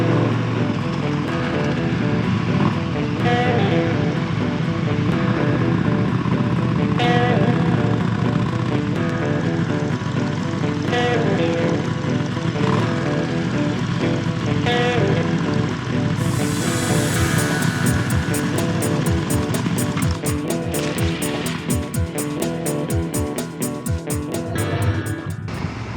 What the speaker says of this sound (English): I enjoy riding all these road surfaces, and the KTM Super Duke 1290 GT does seem to handle all road surfaces pretty